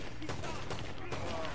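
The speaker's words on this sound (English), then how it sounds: "I'm gonna use a semi-automatic pistol." Semi-automatic pistol fire in Red Dead Redemption 2, with a few sharp gunshot cracks over a dense, constant game soundscape.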